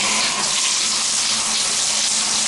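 A shower sprays water into a bathtub: a steady, bright hissing rush of falling water, close and constant throughout with no voices.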